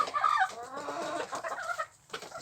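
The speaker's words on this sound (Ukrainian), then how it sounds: "дивно, що квочка одразу другий день не побігла до гнізда" A broody hen clucks close by in a village yard, with a run of low, throaty, uneven clucks and a few higher notes, steady and moderately loud throughout.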